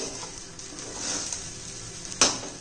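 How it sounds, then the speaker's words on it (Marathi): Sabudana khichdi heats and is stirred in a pan with a soft, steady sizzle and light scraping, then one sharper utensil clink near the end. "आता व्यवस्थित चांगली गरम करून घ्यायची खिचडी"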